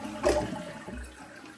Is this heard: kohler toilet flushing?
yes